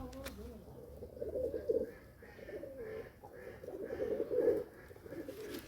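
Several pigeons coo in rounded, repeated phrases, swelling twice to louder bursts, with a rooftop flock that includes white-headed and black-headed birds kept by a fancier in Azerbaijan.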